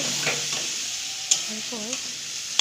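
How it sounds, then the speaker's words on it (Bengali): Soya chunks and potatoes fry in a pan with a continuous close sizzle, broken by a sharp scrape or clink of a spatula and brief stirring sounds. "এই আলুটা আবার দিয়ে ভালো করে ভেজে নেব"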